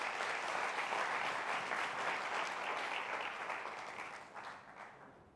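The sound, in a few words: audience applause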